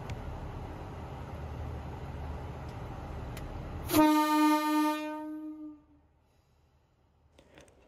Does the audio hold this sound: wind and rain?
no